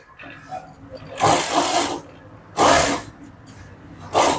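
A sewing machine stitches the front panel of a blouse in three short bursts of whirring, separated by quiet pauses.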